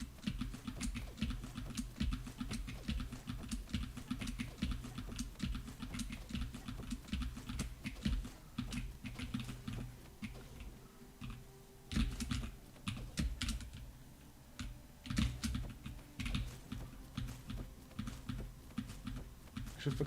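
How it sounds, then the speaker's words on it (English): Loud clicky typing on a new computer keyboard during a video game speedrun, a steady dense patter of keystrokes with bursts and short pauses, close-miked throughout. "I have a new keyboard compared to the previous time I speedrun, and it's very loud"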